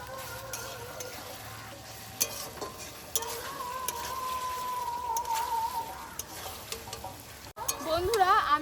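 Sliced potatoes fry in oil with koi fish masala for tel koi, a steady sizzle under repeated utensil scrapes and clinks against the pot, with a faint tonal sound running in the background.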